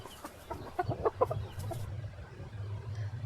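A domestic hen gives a short run of close clucks, then quiets over a low steady background hum.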